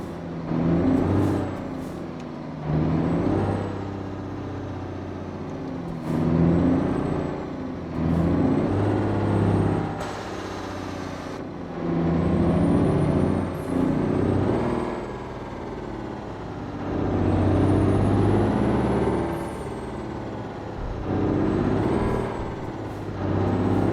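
Truck with air brakes in American Truck Simulator, a low engine rumble that rises and falls in repeated surges, punctuated by sharp hissing air-brake releases, steady and fairly loud with no speech.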